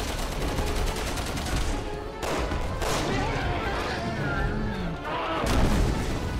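Pistol gunfire in the video game Resident Evil 6, a dense burst of repeated shots layered over a constant loud game soundscape, with people talking in the background throughout.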